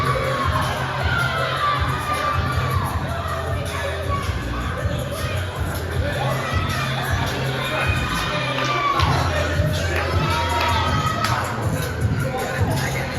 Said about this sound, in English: Austin James hearing it from this raucous crowd that we have here tonight